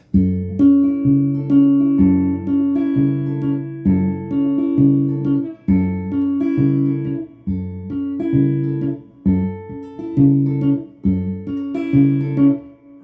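Guitar plays a fingerpicked part of a song, a steady alternating bass under a repeating melody, close and clear with even rhythm throughout and no speech.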